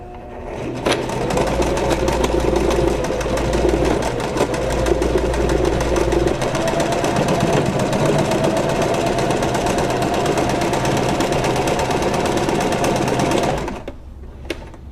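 A Kenmore 385 sewing machine runs steadily for about thirteen seconds while stitching a button in place, a loud, continuous mechanical whir with rhythmic needle clatter, close up and alone, stopping near the end.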